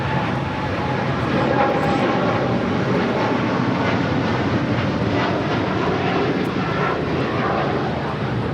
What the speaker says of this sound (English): This is Turkish Airlines Flight 180 taking off to Istanbul on a 787-9 Dreamliner.